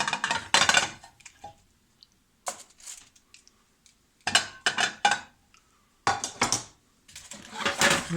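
BBQ ribs shifted back onto a pan, with bursts of metallic scraping and clattering separated by silent gaps, loud and close.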